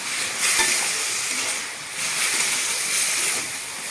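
Masala and vegetables sizzle in a pan with a little water as the mixture dries down, a loud continuous hiss that swells in waves with repeated stirring.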